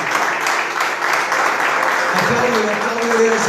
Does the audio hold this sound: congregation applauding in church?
yes